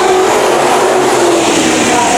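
Sport mod race cars starting a heat race at Bakersfield Speedway in Oildale, California, a loud, continuous roar of several engines revving hard together, dense and close with no breaks.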